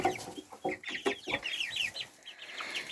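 Several young chickens cluck close by, busy overlapping calls with some higher squawks and chirps mixed in.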